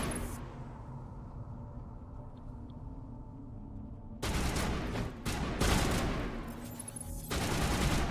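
Gunfire in Mass Effect, a quiet stretch followed by sudden loud bursts of rapid shots in several volleys, close and dense.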